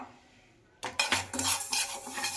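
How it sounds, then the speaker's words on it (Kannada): Fenugreek seeds stirred with a metal spoon in a pan as they roast on low heat for a herbal hair oil, giving close, repeated scraping and clinking strokes after a quiet start. "ಮೆಂತ್ಯ ಕಾಳುಗಳನ್ನ ನಾನು ಈ ಥರ ಹುರ್ಕೋತಾ ಇದ್ದೀನಲ್ಲ ಈ ಥರ ಹುರ್ಕೊಳ್ಳಿ ಸಿಮ್ಮಲ್ಲೇ ಹುರ್ಕೊಳ್ಳಿ"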